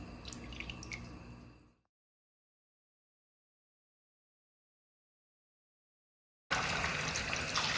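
Water running and dripping over a photographic print being washed, a steady trickle with drips that cuts out into silence for several seconds, then returns loud and steady.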